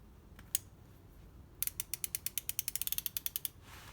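Würth 1/2-inch drive extendable flex-head ratchet clicking: a few isolated ticks, then a quick run of about twenty sharp, crisp pawl clicks that speed up, close and distinct over quiet background.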